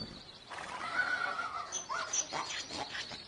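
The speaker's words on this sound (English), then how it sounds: "That was just the horses and donkeys that are in the stable." Horses whinny and neigh in a stable, with the occasional clip-clop of hooves, the calls fairly close and loud above a steady background with no talking.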